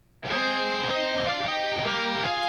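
Soundfont guitars double recorded guitar parts an octave higher, entering abruptly after a brief quiet moment and ringing as a dense, sustained layered chord with faint rhythmic pulses.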